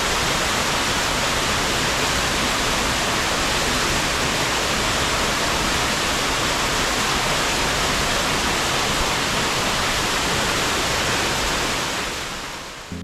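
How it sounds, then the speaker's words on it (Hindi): Karlaan waterfall near Nathia Gali roars as a steady, loud, unbroken rush of falling water close by, constant throughout before easing slightly at the end. "तो ये सामने पहली वाटरफॉल है"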